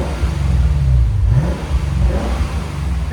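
A 2025 Lexus IS 500 5.0L V8 with an aftermarket axle-back exhaust revving hard, a loud deep roar that climbs, dips briefly, then surges again, heard up close without talking.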